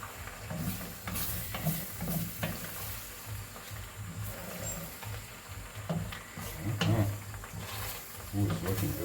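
Pepper being stirred into food cooking in a pot on a farm, with soft scraping and a faint sizzle running steadily through the clip alongside low background noise.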